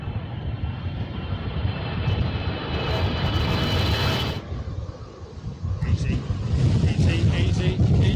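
An airplane flying in to land gives a loud, broad engine roar that swells and holds steady across the whole stretch, with people talking and exclaiming over it.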